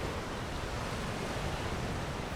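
Steady wash of ocean surf rolling onto a sandy beach, a broad continuous roar with no distinct breaks, moderately loud and even throughout with no voices.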